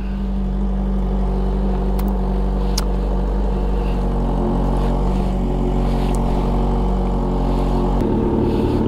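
A Kawasaki ZH2 motorcycle engine warming up at idle, a loud close steady low rumble that holds evenly before dropping slightly near the end.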